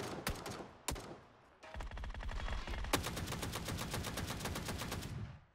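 An O12 shotgun firing in the PUBG video game, with rapid, evenly spaced loud blasts in sustained bursts close by and a couple of isolated shots beforehand, with no talk over them.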